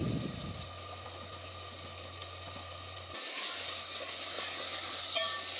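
Beef keema seasoned with turmeric and coriander powder fries in a pan, a continuous close sizzle and hiss that grows slightly louder partway through, with faint stirring scrapes.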